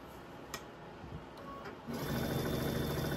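A sewing machine stitches quilt block pieces. A faint clicking run is followed by a louder, steady mechanical whirr as the machine speeds up near the end.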